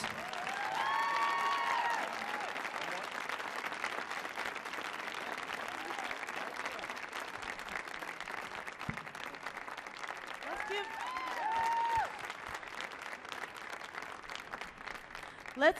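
A school arts showcase audience at the Millennium Stage applauds the Mellow Tones vocal group, with continuous clapping over cheers and shouted whoops running throughout and a brief rise near the end.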